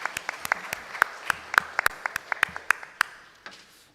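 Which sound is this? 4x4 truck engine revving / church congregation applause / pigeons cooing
church congregation applause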